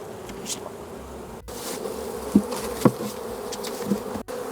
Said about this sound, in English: There's also some bees on the front, which I just want to be careful about.